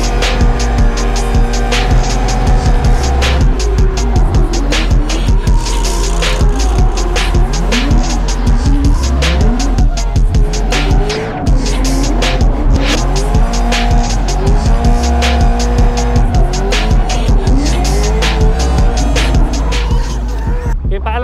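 A car accelerates hard under full throttle with tires squealing almost continuously. The engine roars loud and close while the screeching rubber rises and falls for the whole stretch, with no pause.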